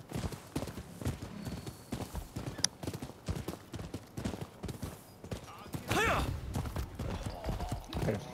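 In the video game Rise of the Ronin, a horse gallops in a fast, steady clip-clop of hooves that runs for several seconds. A neigh rises partway through, and someone speaks quietly underneath.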